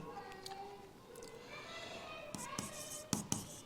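Writing strokes on a board during a maths lesson, a few soft scrapes and sharp taps near the end over a faint hum, with no speech.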